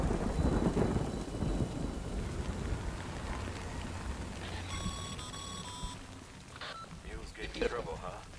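Steady rain and rumbling storm noise in the video game Death Stranding, a dense wash throughout with brief chiming tones and a voice talking over it.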